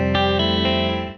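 A single chorus-tinged electric guitar chord from a riff rings out close, with a couple of picked notes layered on top before it is cut short.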